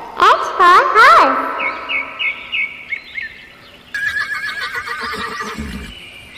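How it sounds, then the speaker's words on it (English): A horse whinnies loudly in a shrill, quavering neigh at the start, followed by quieter chirpy cartoon-like calls and faint background sounds. "H for horse."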